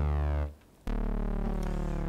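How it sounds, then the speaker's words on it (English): Logic Pro ES2 synth bass patch "Real Fat" played without its arpeggiator, a thick sawtooth-like sustained bass note, briefly cut off and then resumed, loud and alone with no voices. "Real Fat without the ARP"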